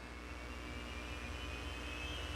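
A jet dragster's jet engine spools up at a drag racing event, a steady, far-off whine with a rising high tone over a constant low rumble, without pause through the clip.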